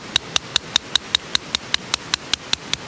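Small hammer driving a tent peg into soil at a campsite, fourteen sharp, evenly spaced metallic taps in a steady rhythm, close and clear with no talk.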